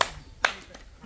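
Two or three sharp hand claps, the first and second about half a second apart and a fainter one after, close and dry over a quiet background.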